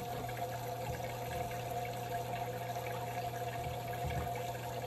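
Water pumped through a 3D printed hydroponic tower, an even trickling flow over a constant low hum from the pump, steady and moderately quiet throughout.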